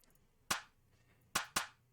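Three sharp clap hits from a sample played in Ableton Live: one alone, then two in quick succession, each crisp with a short decaying tail over a quiet background.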